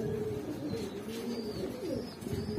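Pigeons coo steadily in a loft, a low throaty warble that runs without a break under a background hiss, with no one talking.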